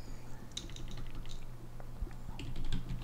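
Quick bursts of typing on a computer keyboard, with irregular clicky keystrokes, close and fairly loud, with no talking over them.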